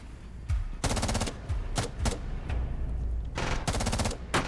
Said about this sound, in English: He's shooting in smaller bursts, but that still looked like it was still moving